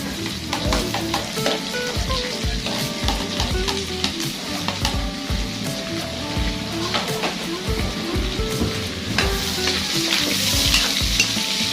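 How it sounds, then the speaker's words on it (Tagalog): Garlic and ginger fry in a pan for Filipino bopis as onion goes in, giving a loud, continuous sizzle with constant crackling spatter and repeated scrapes and knocks of the stirring utensil. "pag namumula na yung mga bawang tsaka luya, lagay na rin tong sibuyas"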